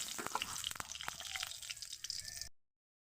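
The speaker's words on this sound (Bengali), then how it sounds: "মাছ ভেজে নিছি, দুটো গোটা জিরে দেব।" Whole cumin seeds sizzle softly in hot oil in a pan that was just used to fry fish for a Bengali rohu fish-head and yam curry. The faint crackle and spatter stops abruptly, leaving silence.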